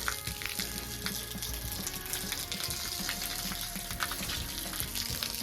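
A pressure washer sprays water across a patio to wet it down before cleaning, a steady loud broadband hiss and spatter that runs continuously throughout.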